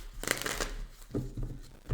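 Tarot cards are shuffled by hand at close range, giving brief riffling bursts of papery flutter with short pauses between them, and no talking.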